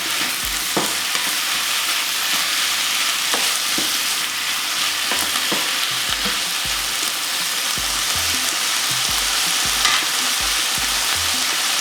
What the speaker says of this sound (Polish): Garstka takiego imbiru. Teraz musimy to zamieszać.